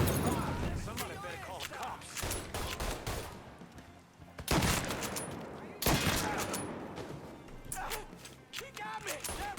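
Shotgun blasts in the open-world crime game Mafia III ring out loud and dense amid a chaotic gunfight, with heavy bursts repeating across the clip while someone talks and exclaims over the shooting.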